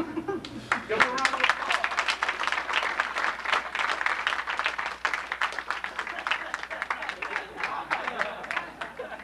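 Audience applause during a sword arts demonstration, a dense, steady patter of many hands clapping that carries on for several seconds at moderate loudness.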